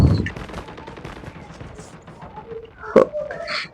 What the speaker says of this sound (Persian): اونورم باز تیراندازیه